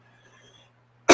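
A single sharp cough bursts out at the very end after near silence with faint background hum.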